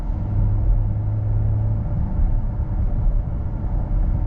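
Steady low car engine rumble from an automatic transmission driven in manual shift mode, a downshift at higher RPM making the revs climb; a continuous close drone with a sustained low tone early on, no talk.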